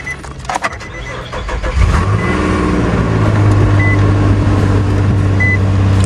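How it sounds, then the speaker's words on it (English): Utility truck engine cranking briefly, then catching and settling into a loud steady idle, up close with no talking. "All right, finally got one to start."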